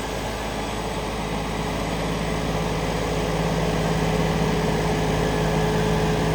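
A John Deere 5075 tractor engine runs steadily and loudly up close, a constant heavy diesel drone with a low vibrating hum and no pauses.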